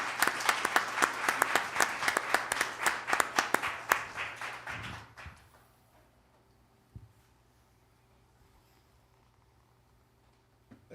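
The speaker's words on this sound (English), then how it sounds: "Let's give Representative Clyburn and our moderator another round of applause." A small audience claps for about five seconds, then the clapping fades out into near silence with a couple of faint knocks.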